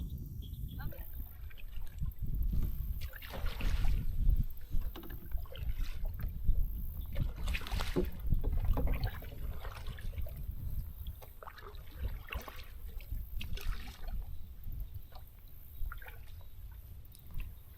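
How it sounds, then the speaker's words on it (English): Paddle strokes splash and drip around an Oru Beach LT folding kayak on open water, a loose, irregular rhythm against wind noise, with a voice now and then. "Now I kind of want to try to paddle."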